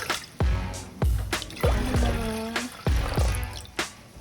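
Water pours into a pot in several splashing, gurgling bursts, close up, each pour rising in pitch as the container fills.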